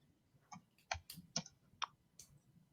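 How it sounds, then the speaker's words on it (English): Typing on a keyboard, a handful of separate, faint key clicks spaced unevenly across a quiet indoor room. "I'm typing."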